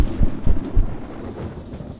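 Low rumbling thunder before rain, a few deep heavy thuds rolling together in a short burst, then fading into a dull murmur.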